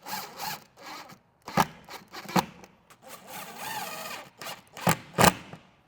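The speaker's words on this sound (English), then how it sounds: "now it's time to screw the clips inside those holes" Clips are screwed into anchored drilled holes while mounting slat wall panels, giving close, intermittent scraping turns and sharp clicking bursts with short pauses between, fairly quiet overall.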